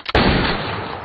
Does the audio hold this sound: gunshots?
yes